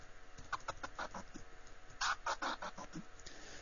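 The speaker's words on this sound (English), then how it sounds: "I can do a basic scratch technique, which is called the transform, which is just pressing the fader on rhythmically in short bursts" A transform scratch made in FL Studio's scratcher, the fader cut on and off rhythmically in short bursts, giving choppy, stuttering clucking fragments in a quick uneven pattern, fairly quiet and with no talking.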